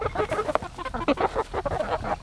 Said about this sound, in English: I do think we have a rooster in here, though.